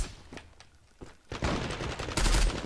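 Galil AR rifle fire in a video game, a few scattered shots followed by a louder, sustained burst of rapid automatic gunfire that grows denser toward the end.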